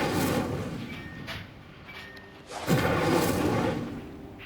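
In the Hogwarts Legacy video game, the Incendio fire spell goes off as a deep whooshing burst of flame, with a second loud fiery surge that swells and lingers.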